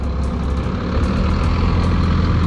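A large truck idles while manoeuvring to turn around at a spacious cattle-loading yard, a deep steady diesel rumble with faint high beeps repeating over it, close and continuous.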